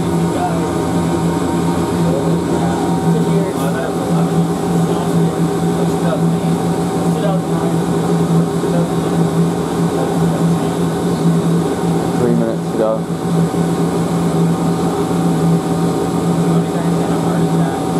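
A Milnor 30022-C4E washer-extractor at a North Texas laundromat spins at about 475 RPM, producing a loud, continuous mechanical whir and hum that stays steady throughout, with a steady tonal drone.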